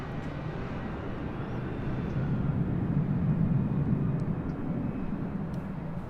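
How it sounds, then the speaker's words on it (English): A Southwest Airlines Boeing 737-700 jet arrives at LAX, its steady broadband engine roar holding at moderate distance and swelling slightly midway, with no voices. "Next arrival is Southwest Airlines flight 462 coming in from Reno, Nevada"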